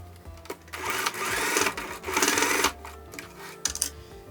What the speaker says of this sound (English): now we will secure the fabric by sewing one straight stitch